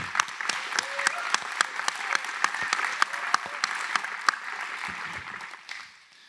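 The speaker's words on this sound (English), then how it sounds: "So please give yourselves a round of applause" An audience claps at a tech talk event, a dense round of applause with some sharp individual claps standing out, tapering off at the end.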